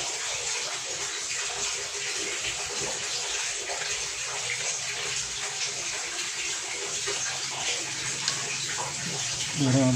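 Water gushing and draining steadily from a clogged washing machine drain, a continuous broadband rush at fairly constant level for the whole stretch, with a brief knock near the end.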